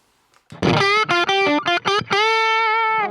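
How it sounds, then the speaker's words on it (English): Heavily overdriven electric guitar tone through a Hughes & Kettner AmpMan pedal with boosted distortion, a run of short chopped notes followed by one long sustained note ringing out, loud and up close. "It adds some extra distortion as you get it from your tube amp when you turn it up"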